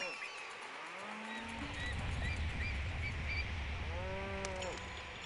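Cattle moo repeatedly over a steady ambient hum in the 1999 city-building video game Pharaoh, a few drawn-out lowing calls at moderate distance with other faint animal and game sounds.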